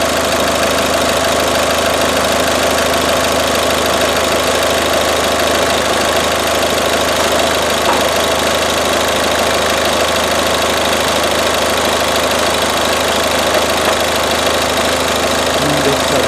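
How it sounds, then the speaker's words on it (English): A 2012 Ford S-Max 1.6 TDCi diesel engine idles steadily after a fuel filter change, producing a constant, close, even clatter and hum with no talking. "Started the engine and the engine is running nice."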